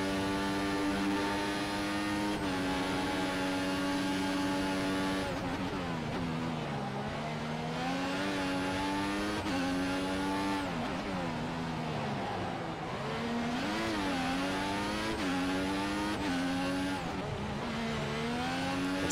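Simulated Formula One cars from F1 2014 racing at Singapore's Marina Bay night circuit, engines whining steadily at high pitch with repeated downshifts and upshifts as revs rise and fall through corners, loud and continuous throughout.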